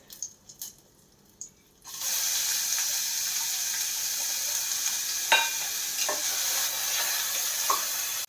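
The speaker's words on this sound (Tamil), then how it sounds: "நம்ம கட் பண்ணி வச்சுருந்த வெங்காயம் வெள்ளைப்பூட சேர்த்து வதக்கலாம்" Chopped onion and garlic hit a hot pan and start sautéing for a green peas masala, a few faint taps first, then a sudden steady loud sizzle with occasional stirring scrapes.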